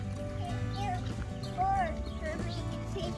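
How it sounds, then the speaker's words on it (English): A horse near a summer garden whinnying, a few wavering calls rising over steady low background noise, one louder call in the middle, with a person talking at the same time. "You hear a horse?"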